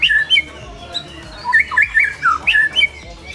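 Loud, clear song of a white-rumped shama with bright whistled phrases and chirps in quick repeated bursts, close to the microphone, with no other sounds competing.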